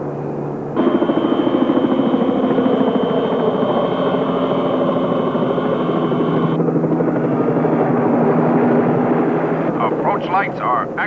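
An aircraft approaches an aircraft carrier to land, a loud, sustained engine roar that swells and steadies after the first second, continuing without a break to the end.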